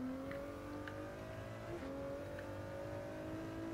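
Race car engine pulling at full power around Daytona International Speedway in Gran Turismo 7, a steady droning whine climbing in pitch through the gears with a brief shift dip, loud and continuous.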